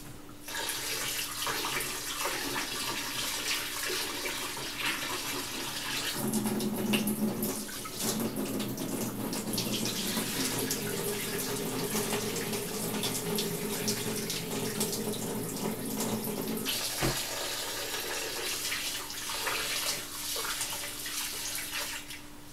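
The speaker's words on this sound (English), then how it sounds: "So I just have to make sure I wash that rice really good" Rice for Jamaican rice and peas washed under a running kitchen tap, a continuous close rush of water with small shifts in splash as the grains are swirled.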